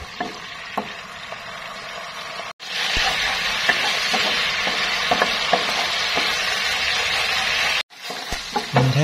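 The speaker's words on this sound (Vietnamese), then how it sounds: "mình sẽ nấu cho cái sốt me này nó hơi keo keo lại, rồi mình mới cho tôm vào" Tamarind sauce for Vietnamese tamarind shrimp bubbles and sizzles loudly in a pan while being stirred, giving a steady close frying hiss with scraping stir strokes and two brief cutoffs.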